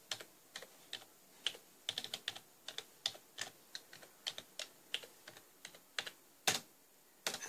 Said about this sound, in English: hit F12, and I will have to type my password